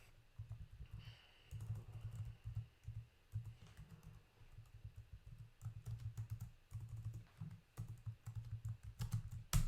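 Computer keyboard keys clack in quick irregular bursts and short pauses while code is typed for a React app, close and fairly clear, with no talking.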